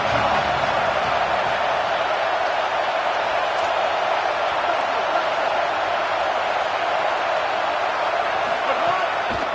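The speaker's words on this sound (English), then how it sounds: "Decibels rising as the crowd gets behind this defense on 3rd down." A football stadium crowd at an Ole Miss versus Oklahoma game roars steadily on third down, a loud, dense wall of cheering that holds at full volume throughout.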